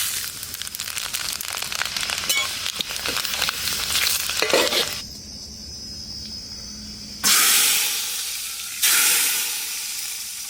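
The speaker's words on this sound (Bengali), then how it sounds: "প্রথমে দেবো শুকনো লঙ্কা, লঙ্কার পরে দিয়ে দেবো 5 ফোড়ন।" Dried red chilies and five-spice tempering frying in hot mustard oil, a close, loud crackling sizzle that eases off, then flares up in two sharp hissing bursts.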